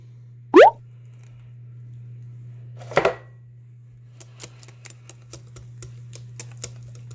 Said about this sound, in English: I'm gonna add the butter in now.